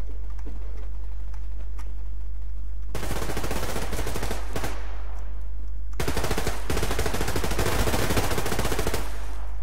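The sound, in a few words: gunfire in the video game Survarium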